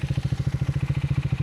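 A motorbike engine runs on a forest road near Gaganachukki Waterfalls at sunset, throbbing in a fast, even pulse, loud and close, with nothing else audible.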